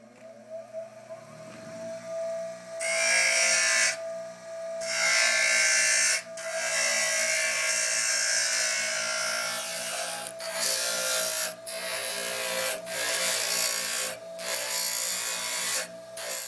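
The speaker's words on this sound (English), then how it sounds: "so now we're going to the grinder. Once again, if it's too loud, we'll just cut the audio out of the video." A grinder shapes a metal piece for a batarang, bursting on loud and harsh in repeated passes separated by brief pauses, with a steady motor hum underneath and no talking.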